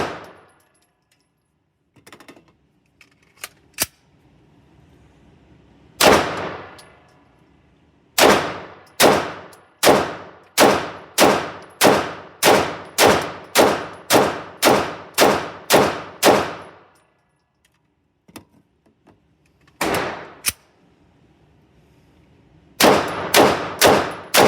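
Pistol shots from a Sig MK25 or HK USP9 ring out at an outdoor range, loud and sharp, including a rapid string of about a dozen evenly spaced shots followed by a few more after pauses.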